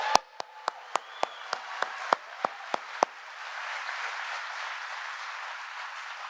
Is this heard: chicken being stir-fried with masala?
no